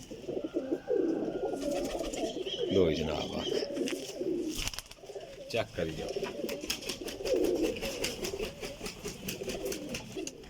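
Flying pigeons at a loft in Jhelum give repeated soft, throaty coos close by, mixed with wing flutters and someone talking over them.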